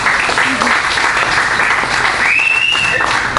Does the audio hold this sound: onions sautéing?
no